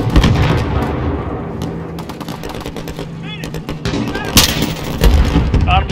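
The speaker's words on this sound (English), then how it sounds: "We are clear for missile strike." Missile strike explosions in the video game Spec Ops boom and rumble through a dense battle mix, with repeated heavy bursts and crackling impacts over steady low rumble, while voices speak over the action.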